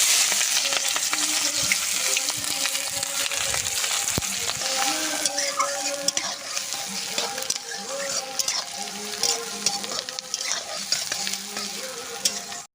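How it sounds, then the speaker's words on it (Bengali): Chopped onion and green chilli frying in plenty of hot mustard oil, a loud, steady sizzle with bursts of crackle and the scrape of stirring running throughout, close up with no one talking. "তেলটা গরম হয়ে গেছে, তেলের ভেতরে দিয়ে দেবো পেঁয়াজ কুচি আর কাঁচা লঙ্কা কুচি"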